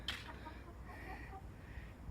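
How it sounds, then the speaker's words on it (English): Backyard laying hens, four of them, cluck softly in a short faint burst, with one sharper call at the start over quiet outdoor background. "Chickens"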